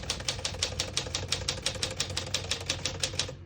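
Steady, rapid typewriter keystrokes clacking in a regular rhythm, close and crisp, with no voices.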